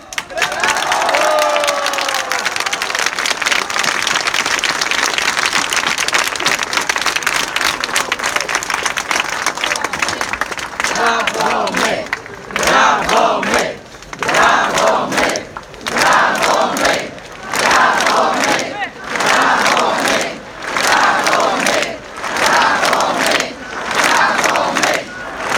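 A large crowd at an outdoor rally in Poznań defending judicial independence applauds and cheers loudly, first as a dense continuous roar, then as rhythmic surging bursts of clapping and shouting.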